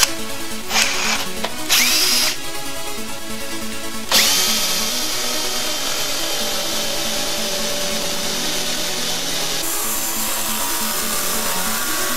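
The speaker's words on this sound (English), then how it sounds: "This is a Forstner bit. Pretty terrible one, but it'll work." Power drill boring into wood with a cheap Forstner bit, a few short bursts of whining motor before a long sustained run with the bit grinding through the wood, close and loud.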